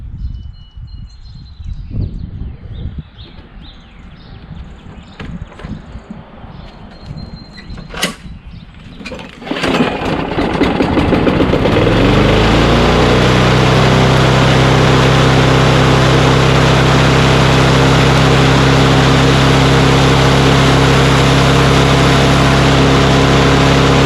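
A small gasoline engine, likely on a lawn mower or snowblower, is pull-started after some clattering handling, catches on the first pull and then roars steadily at high RPM, loud and close.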